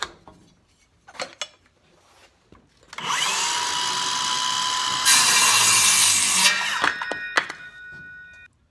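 A wooden 2x4 cut to length with a power saw: a few knocks and handling sounds, then a loud sustained whine that rises in pitch partway through and spins down with ringing tones.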